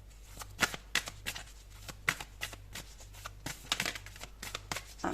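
Tarot cards being shuffled by hand, giving soft, quick riffling and slapping bursts in an irregular rhythm, close and fairly quiet.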